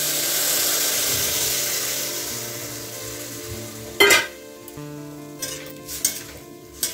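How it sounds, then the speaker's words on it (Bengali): Carrots frying for gajar halwa sizzle strongly as milk is poured in, and the sizzle quickly dies down into scattered clinks and scrapes of a utensil stirring in the pan. "ভাজার পরে এবার দুধ দিয়ে দিচ্ছি"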